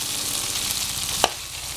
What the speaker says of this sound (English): You're gonna be almost like frying the meat a little bit.